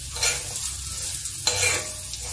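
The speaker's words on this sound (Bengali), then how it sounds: "গ্যাসটা সিম করে আমি চষিটাকে ভালো করে ভেজে নিচ্ছি।" Chushi rice dumplings fry over a low flame, a close, steady sizzle with scraping stirring strokes and a couple of sharper clinks, with no voices.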